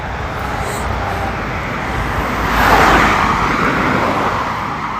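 Cars pass on a busy road beside a petrol station: a continuous broad traffic wash that swells as one vehicle passes close around the middle, then eases back to a steady roar.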